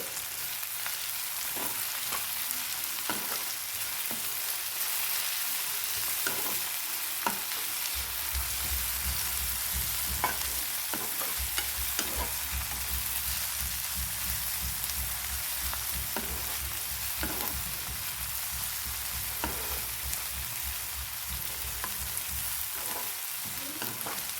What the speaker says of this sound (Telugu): వీటిని కొద్దిసేపు వేయించుకుందాం ఈ ఆయిల్లో